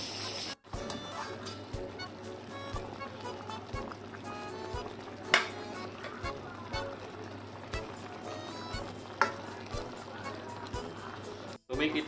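Paksiw sa gata with string beans and zucchini being stirred in a pot, a steady wet simmering bubble with scattered soft scraping and clicking knocks of the spoon throughout.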